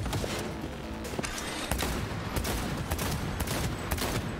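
Rapid gunfire from a shooter in the video game Cyberpunk 2077, played on a very hard difficulty, with dense bursts of shots and automatic fire crackling continuously and loudly throughout.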